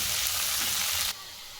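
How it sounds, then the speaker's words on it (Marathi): Chopped vegetables sauté in hot oil with cumin, mustard seeds and garlic, giving a steady close hiss and sizzle that cuts off abruptly near the end. "आता हे परतून घेऊ आपण"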